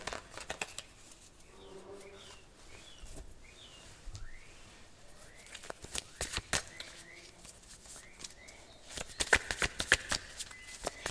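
Tarot cards are shuffled by hand in a run of quick, crisp, papery clicks and flutters that grow denser and louder toward the end, while faint bird chirps sound in the background.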